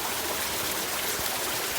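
Water falls and splashes steadily at Jatashankar in the Girnar forest, a continuous close rushing wash with no pauses.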